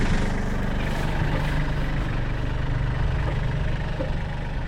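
A tractor engine idles outdoors during work installing a water trough, a steady low diesel rumble that stays loud and even throughout, with no speech.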